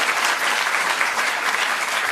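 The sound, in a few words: audience applause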